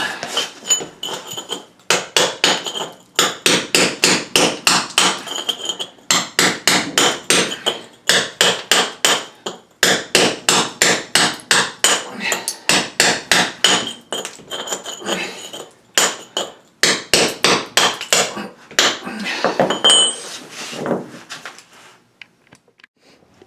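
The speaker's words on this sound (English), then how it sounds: "I gotta get a hammer and chisel." Rapid bursts of metallic hammer strikes on a chisel, chipping at concrete in repeated rhythmic volleys separated by short pauses.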